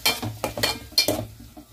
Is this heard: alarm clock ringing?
no